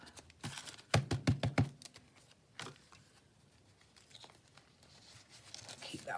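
Paper signatures for a junk journal being folded and creased, giving a quick run of sharp crinkling and rustling bursts near the start, then softer, sparse handling sounds close by.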